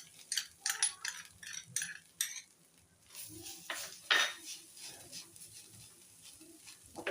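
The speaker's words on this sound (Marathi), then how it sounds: "आता आपण ओलं खोबरं आधी कढईमध्ये टाकूया." Grated fresh coconut tipped into a wok and stirred with a metal spoon, a run of close scraping clinks and taps against the pan, with a short pause between bursts.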